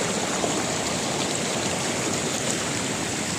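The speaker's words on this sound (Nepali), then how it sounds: "फाइनली चाहिँ खोला चाहिँ तरियो" A stream being waded across on foot, its water rushing and splashing in a steady, close, fairly loud wash throughout with no voices.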